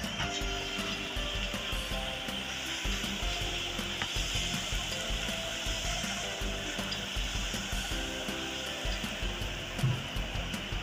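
Hot ghee poured into flour for layered shankarpali dough, giving a steady, dense sizzle and crackle that runs close and continuous throughout, with no talk over it.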